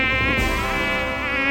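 Mosquitoes buzz in a steady, close, high whine with a wavering pitch, carrying on without pause and no talking.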